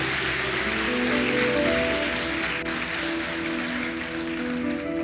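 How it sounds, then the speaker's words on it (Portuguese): A church congregation applauds in a steady, dense wash of clapping that holds evenly from start to finish, with tones sounding faintly beneath it. "Você pode aplaudir Jesus?"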